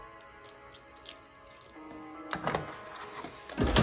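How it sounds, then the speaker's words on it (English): Milk is poured into a peanut butter mixture, first as faint drips, then as a louder, closer liquid pour near the end with no one talking. "So I'm gonna add a little bit more milk."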